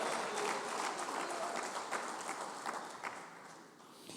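Church congregation clapping in praise during a Portuguese-language sermon, a dense, loud burst of applause that slowly tapers, with a few louder individual claps near the end.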